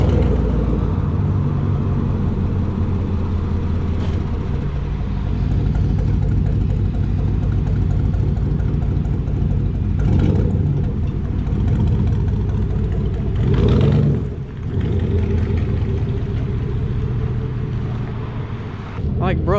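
A steady, loud roar of road traffic with wind buffeting the microphone runs without a break, swelling briefly as vehicles pass close by.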